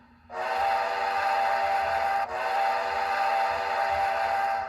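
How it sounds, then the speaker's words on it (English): The ESU LokSound whistle of an HO scale Athearn Genesis Union Pacific FEF-3 #844 model steam locomotive blows steadily with rich layered tones for several seconds, briefly dipping midway before resuming, loud and close. "F2 is the whistle."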